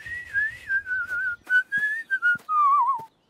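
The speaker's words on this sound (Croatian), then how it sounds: "Vidjet može zviždati bez sokića." A cartoon character whistles a short melodic tune, clear and close, in a series of sliding notes broken by brief pauses and small breaths, with no talking.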